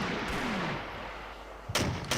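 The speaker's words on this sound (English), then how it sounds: "my mortars are coming down on that tank" In the Combat Mission video game, mortar shells land on a tank against a steady background roar. Two sharp, close impacts strike near the end, and a fainter thud comes early.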